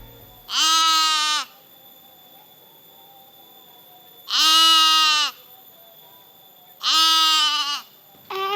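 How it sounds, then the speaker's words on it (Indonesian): A goat bleats three times, each a long wavering cry separated by a few seconds of quiet, loud and close. "Kak, dengar suara kambing nggak?"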